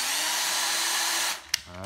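An old cordless drill, a used Japanese secondhand unit, whirs at a steady high pitch, then spins down abruptly near the end, followed by a sharp click and a brief restart.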